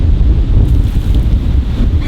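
Strong wind buffets the microphone outdoors in a steady, loud low rumble with no voices, lasting about two seconds.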